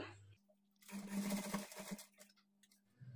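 A sewing machine runs a rough stitch on a blouse in one short close burst of rapid mechanical whirring lasting about two seconds, then stops.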